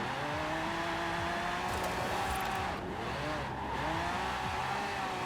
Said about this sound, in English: It is definitely spinning those wheels